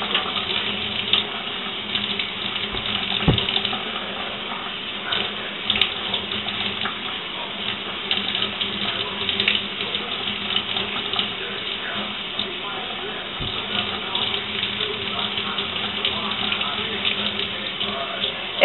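Tap water runs steadily and close by at a sink or shower while hair is washed with Tresemme shampoo, a continuous even rush with no talking over it.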